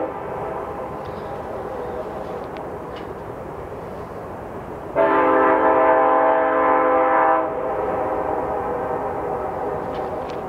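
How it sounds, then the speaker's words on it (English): Continuous rumbling of a passing train in North Idaho, then a sustained horn blast of about two and a half seconds rising over the noise before the rumble carries on. "There's so many trains in North Idaho, and they are noisy."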